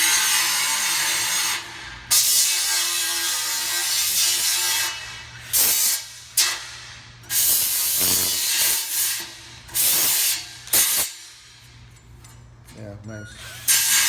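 An Ingersoll Rand G1621 air polisher/sander deburring at a body shop, its loud high whir running in repeated bursts that start and stop, with people talking briefly between runs.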